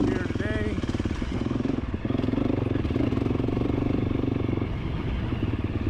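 A 350 motorcycle cruising on an autumn ride, its engine a steady low rumbling drone with a light mechanical clatter, close and constant, while a person talks over it.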